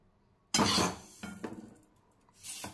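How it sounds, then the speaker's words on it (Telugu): A utensil scrapes and clinks against a pan while sesame seeds and jaggery are stirred, in a few short close bursts separated by brief quiet pauses. "ఉండలు కట్టకుండా తిప్పుకోవాలి"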